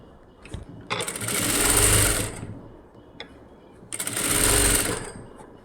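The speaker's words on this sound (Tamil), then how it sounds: "இப்படி வச்சு ஒரு தையல் போட்டுட்டு வரோம்" A sewing machine stitches the front of a princess-cut blouse in two loud whirring bursts of about a second and a half each, with a quiet pause and a soft click between them.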